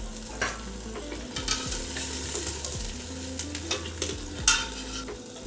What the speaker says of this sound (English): Hear that sizzle? Check out that sizzle on it.